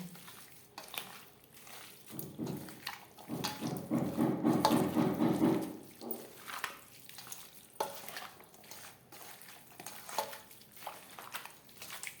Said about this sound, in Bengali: সমস্ত উপকরণ দিয়ে চিকেন বেশ ভালো করে মেখে নেব